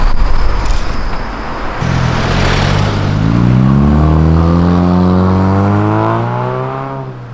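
A Honda Civic at a EuroNight car meet revs hard and accelerates away close by, its loud engine note climbing steadily in pitch over several seconds with no talk.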